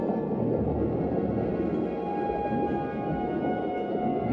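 Steady underwater-sounding calls from pink river dolphins, a continuous wash of low tones and faint whistles with no pauses, moderately loud throughout.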